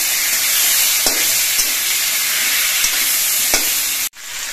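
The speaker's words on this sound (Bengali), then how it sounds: "আর এই ইলিশ মাছের মাথাগুলো কিছুক্ষণ ভেজে নিতে হবে।" Hilsa fish heads fry in hot oil for a Bengali kochu shak dish, giving a loud, steady sizzle with a few sharp spatters and stirring clicks, then cutting off abruptly near the end.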